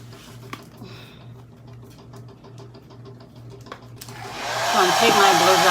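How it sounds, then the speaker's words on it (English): Quiet clicks and small handling noises, then a blow dryer switches on, blowing on a wig, its loud steady whoosh of air rising and holding to the end. "Take my blow dryer."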